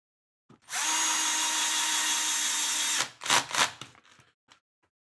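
Four screws going into a DR10 kit build with a power driver: one sustained, close motor whine lasting about two seconds, then a few short ratcheting bursts and light clicks before it falls quiet.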